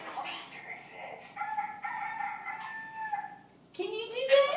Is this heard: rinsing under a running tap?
no